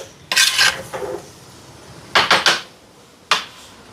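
A metal pot of boiled plantains clatters as it is lifted off the stove, giving a few sharp scraping knocks in two quick clusters and then one last clank, close and fairly loud against a quiet kitchen.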